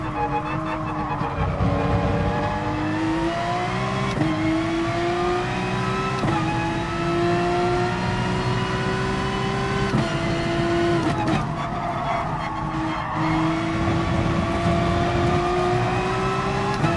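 A race car in Gran Turismo Sport powering out of a corner during an online FIA race, engine revving steadily upward through repeated gear shifts, loud and close, with faint tire scrub underneath.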